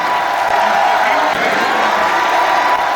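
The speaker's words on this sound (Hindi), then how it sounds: "एक बार जोरदार तालियां बजाइए" A large crowd at an evening comedy and poetry show applauds loudly, a steady dense roar of clapping mixed with crowd noise and a few whoops, continuous and close.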